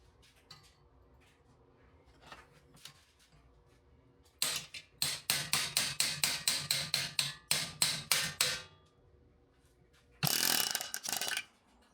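A hammer strikes the edge of a car quarter panel from a 1984 AE86 coupe held in a vise, giving a rapid series of sharp metallic blows after a few lighter taps, then a short harsh burst near the end.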